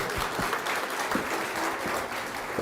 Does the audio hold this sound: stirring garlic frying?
no